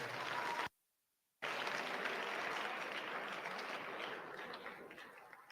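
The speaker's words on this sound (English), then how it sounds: "So y'all give them another round of applause." An audience at a high school program applauds veterans, continuous broadband clapping that sounds somewhat distant and soft, briefly cutting out near the start before carrying on evenly.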